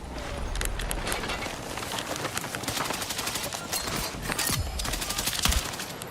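Dense rapid gunfire in a combat video game, sustained bursts of automatic shots and crackling impacts filling the whole stretch, loud and close with no talk over it.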